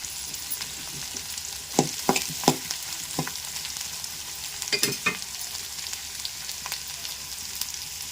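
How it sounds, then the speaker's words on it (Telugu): Green chillies fry in a pan of onions for a tomato and flat bean curry, a soft steady sizzle broken by a few sharp spoon knocks and stirring scrapes. "పచ్చిమిర్చి వేస్తున్నాను"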